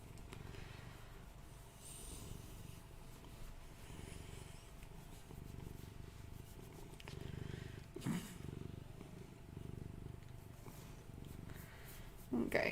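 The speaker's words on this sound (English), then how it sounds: "He's purring again." A domestic cat purring close by: a soft, continuous low rumble that runs steadily throughout, faint in level, with a few brief rustles and clicks on top.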